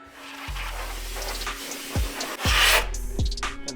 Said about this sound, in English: So I'm just kind of sandblasting a little bit of this rust away.